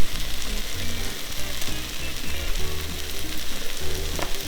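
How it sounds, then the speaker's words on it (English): Vegetables sizzle steadily in a pot for beef short rib and chorizo chili, a continuous close, fairly loud frying crackle with no talking. "So vegetables have been cooking for about 10-15 minutes"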